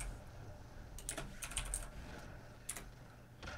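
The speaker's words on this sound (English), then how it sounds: "And I messed it up by typing out Lolo instead of LOL." Fast, irregular clatter of keys on a computer keyboard during a livestream chat, a few quick bursts of close taps over a steady low background hum.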